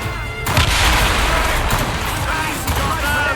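Mortar and cannon salvos boom out in a naval battle in Assassin's Creed Rogue, a dense, continuous barrage of loud blasts and crashes filling the scene after a brief quiet start.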